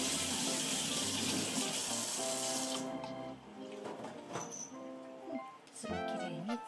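Tap water runs into a sink as a pet grooming brush is rinsed under the stream, loud splashing at first, then a quieter trickle with faint clinks and shifting flow.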